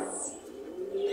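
Pigeons at a busy pigeon market give a short, soft cooing call, close by and alone for about a second.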